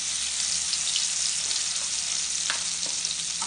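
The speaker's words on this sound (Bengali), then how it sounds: "আমি এখন ব্লেন্ড করা মশলাটা দিয়ে দিচ্ছি।" Blended spice paste frying in hot oil in a wok for yogurt chicken, a steady loud sizzle close by with a few brief stirring clinks near the end; no talking.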